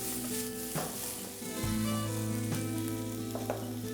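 Vegetables sauté in a hot pan with a constant crackling sizzle, broken by the scrape and clatter of stirring, all close up with no talking.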